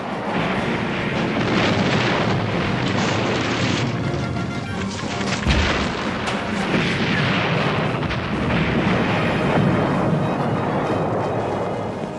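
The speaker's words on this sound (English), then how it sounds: "Haig's great Battle of the Somme began with a massive artillery barrage lasting five days" Massive World War I artillery barrage at the Battle of the Somme in 1916, a continuous heavy roar of overlapping explosions and blasts, loud and unbroken throughout.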